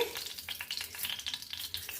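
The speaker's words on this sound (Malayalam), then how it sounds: "തിളയ്ക്കുന്ന അപ്പം നമുക്ക് കടുകിട്ട് കൊടുക്കാം" Rapid, crackling spatters of seeds popping in hot oil, a dense irregular sizzle with sharp bursts, close and fairly loud, no voices.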